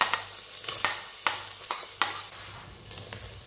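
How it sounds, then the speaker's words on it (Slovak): Onion sautéing in a little oil, a soft steady sizzle broken by regular scraping clicks of stirring in the pan, close and moderately loud with no talking. "Do trochy oleja pridáme cibulu."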